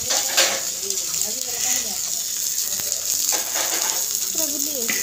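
Fish frying in hot oil in a home kitchen, a steady crackling sizzle running throughout with occasional clinks of a utensil stirring in the pan; a voice speaks over it.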